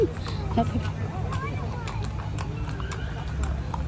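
Hooves of rented horses clop on the ground at a Baguio City riding area, a quick repeating patter of crisp strikes under nearby conversation and steady low outdoor rumble.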